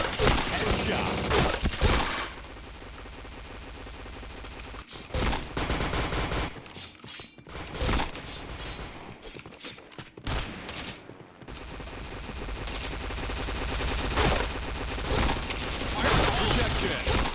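Sustained rapid gunfire from a shooter video game rattles in dense, loud bursts and long volleys, broken by short quiet gaps.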